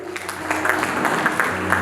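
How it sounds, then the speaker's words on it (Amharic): A congregation at a church wedding applauds the couple with a brief, continuous patter of clapping over a low background hum. "እነሱንም ታምራላችሁ በማለት አጨብጭቡላቸው።"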